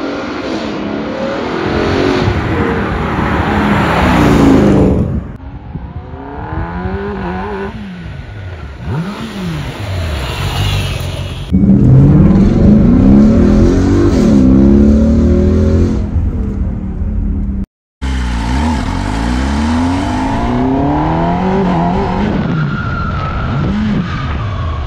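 A Ford Mustang GT and a Kawasaki ZX10R superbike accelerate hard in a drag race, loud engine revs sweeping up through the gears in repeated waves, with tire skid noise and a brief cut in the sound.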